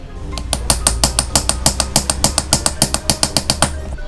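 A blender jar bearing is hammered out, heard as a rapid, regular series of loud, sharp metallic strikes, roughly five per second, close up over a low mechanical hum.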